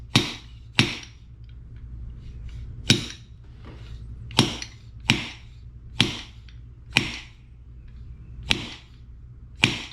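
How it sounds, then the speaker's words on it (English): Sharp hammer strikes drive a Honda CRF150R fork oil seal into place, about nine separate metallic blows spaced at uneven intervals over a low steady hum, close and fairly loud with no talking. "you'll go ahead and hit that oil seal back into place"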